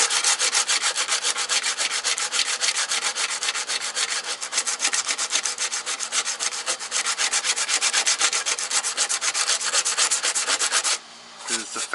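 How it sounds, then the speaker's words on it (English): Bondo filler on a VW MK2 engine bay is sanded by hand with 80 grit sandpaper, giving steady rapid back-and-forth rasping strokes, close and loud, with a brief pause near the end. "Just sand it down. And I'm using 80 grit sandpaper"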